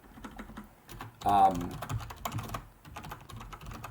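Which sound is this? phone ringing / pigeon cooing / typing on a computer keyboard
typing on a computer keyboard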